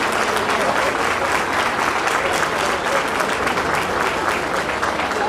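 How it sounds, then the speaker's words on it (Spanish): Sustained, dense applause from a large audience at an outdoor provincial folk festival, Fiesta Provincial de las Llanuras, honoring young folk singers; steady and loud throughout with no gaps. "un aplauso para los pibes que cantan, porque se lo merecen"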